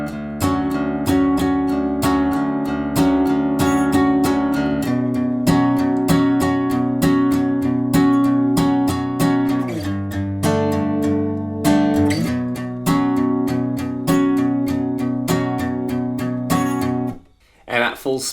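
An acoustic guitar plays the verse riff of a song, fast, driving picked notes in a steady repeating pattern with accented beats. It sounds close and loud and continuous, then cuts off abruptly near the end.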